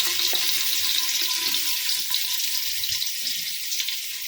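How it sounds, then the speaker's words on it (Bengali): Chopped onions fry in hot ghee and oil for biryani, giving a steady, bright sizzle that stays close and even throughout with no talking. "এবারে আমি এখানে কুচিয়ে রাখা পেঁয়াজ আছে, কুচিয়ে রাখা পেঁয়াজগুলো দিয়ে দেব।"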